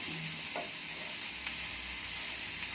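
Vegetables, carrot and beans, fry in a pan while being stirred, a steady soft sizzle with faint scraping touches, close and quiet, no voices.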